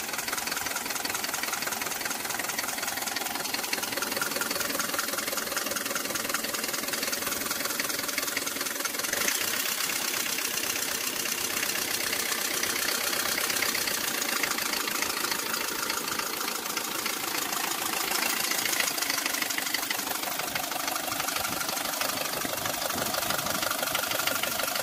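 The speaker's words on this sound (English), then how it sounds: "Very old fashioned engine." A 1972 Mercedes W115 diesel engine idling steadily at close range, a continuous mid-pitched clatter with a rhythmic knocking texture that holds constant throughout, with no voices over it.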